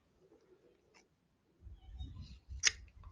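Scissors snip a braided bracelet cord end with one sharp click, followed by faint low rustling and handling of the cord at close range.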